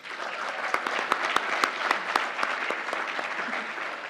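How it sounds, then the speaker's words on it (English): Audience at an awards evening applauds a Miss Cayman Universe pageant runner-up: steady, dense clapping from a sizeable crowd in a hall, with a few sharp individual claps standing out. "Please give a big round of applause to Mariah Tibbetts."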